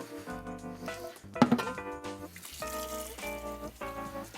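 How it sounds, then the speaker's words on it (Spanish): Water runs from a kitchen sink tap into a cooking pot while a seafood rice stew is being prepared. The flow is steady, with a brief louder splash partway through and music playing underneath. "con más agua que voy a coger en la fregadera"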